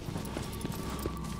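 Horse hooves gallop at a steady clip-clop in the video game Shadow of the Colossus, with close, even beats running throughout over a soft wash of background noise.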